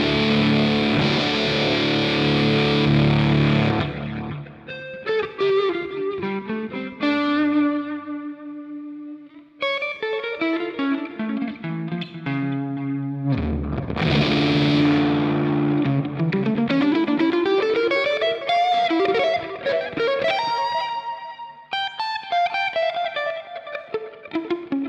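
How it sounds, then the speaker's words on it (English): A Nettuno Fuzz pedal drives an electric guitar through thick, saturated fuzz. Sustained chords give way to melodic single-note runs and bends, loud and continuous with no talk. "Let me demonstrate again with the Nettuno Fuzz."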